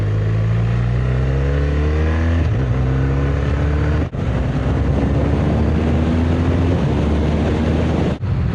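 BMW R1200RS boxer-twin motorcycle engine accelerating hard on the road, its rising harmonic drone sweeping upward through repeated gear pulls, loud and close with steady wind noise and no talking.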